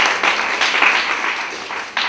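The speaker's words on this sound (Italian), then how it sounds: "Adesso l'applauso." An audience at an education talk breaks into brief, loud applause, dense clapping that holds steady for about two seconds with no voices over it.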